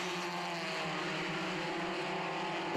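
SsangYong ute race cars at full revs on the Pukekohe track during a racing series round, a sustained, loud, droning engine roar that holds steadily throughout, with no voices.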